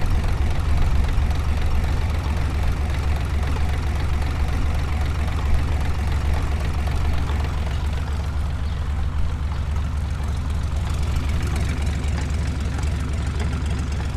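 A Hino W06D six-cylinder diesel engine runs at a steady, loud, close idle, a continuous low rumble with a faint knocking texture throughout.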